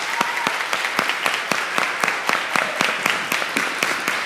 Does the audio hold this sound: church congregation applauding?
yes